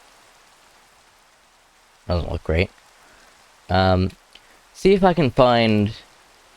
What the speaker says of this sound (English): It is indeed raining.